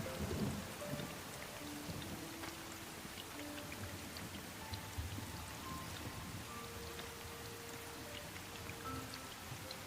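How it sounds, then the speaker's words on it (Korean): A sudden summer rain shower pours down in a continuous hiss with scattered drops pattering nearby and no talking. "소나기예요."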